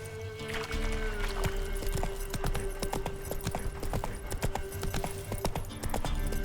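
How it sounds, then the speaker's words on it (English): Hoofbeats of a horse galloping in The Witcher 3: Wild Hunt, a steady rapid clip-clop running continuously over a sustained game music tone, with no talk. "Run, Roach"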